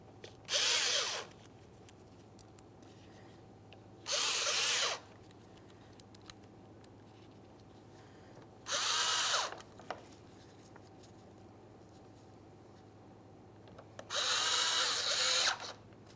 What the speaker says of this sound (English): We'll start in all 4 of those bolts and snug them up.